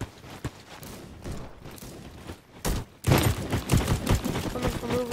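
Bursts of gunfire from a shooter video game: scattered single shots at first, then a louder run of rapid repeated shots after a short pause.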